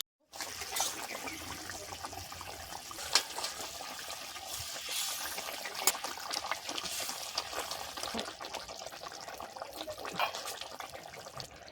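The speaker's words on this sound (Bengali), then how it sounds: "তেল ছেড়ে গেছে, এবার জল দেব।" Water poured into a pan of hot mustard oil while cooking a tilapia fish curry, a steady loud sizzling hiss with splashing and bubbling that runs continuously, close up, with no talking.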